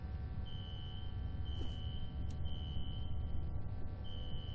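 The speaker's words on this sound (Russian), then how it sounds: "да пожарку надо выключить, она противно пищит так" A smoke alarm in the video game F.E.A.R. sounds a thin, piercing electronic tone in long repeated bursts with short gaps, faint and steady over a low ambient hum.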